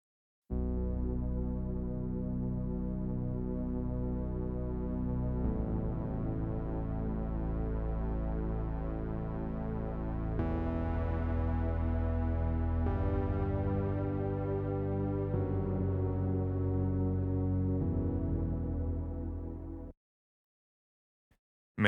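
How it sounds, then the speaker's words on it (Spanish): Deep, sustained synth bass pad in a cinematic electronic production, holding long rich chords that shift every few seconds, loud and steady with no voices, then cutting off abruptly near the end. "aquí hay un pad de bajo, vamos a oírlo en esta parte"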